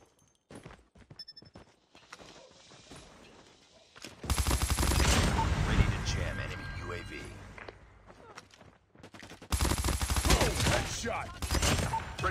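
Light machine gun fire in Call of Duty ranked multiplayer comes as long, loud sustained bursts of rapid automatic shots, broken by quieter stretches of distant gunfire and game sounds, while a player talks over parts of it.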